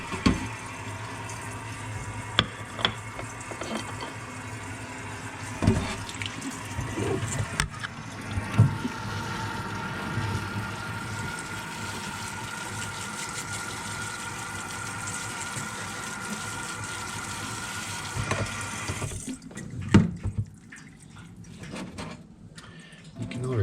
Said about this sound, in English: but I will give it some water